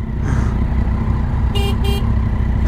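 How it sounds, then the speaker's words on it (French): Two short, loud horn blasts sound close together near a motorcycle, a Kawasaki Z900 or similar, over a steady low engine and street rumble. "C'est quoi ce klaxon? On dirait un train."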